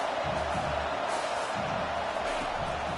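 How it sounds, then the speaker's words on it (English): A stadium crowd at a college football game in Death Valley, a broad, steady roar of distant noise that fills the space evenly with no clear peaks. "This crowd bringing the energy and noise early."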